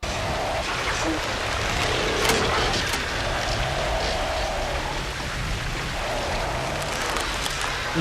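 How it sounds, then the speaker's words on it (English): A truck crossing a bridge in heavy rain in the 1977 film Sorcerer: a steady hiss of rain and engine rumble runs throughout, loud and continuous, with voices talking over it. "they're probably actually really shooting this as it's raining on a real bridge with a real truck"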